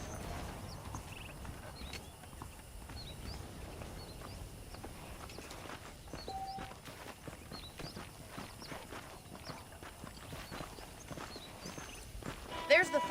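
Horse hooves clip-clop at a steady walking pace in the Western video game Red Dead Redemption, with someone talking over the soft rhythmic footfalls.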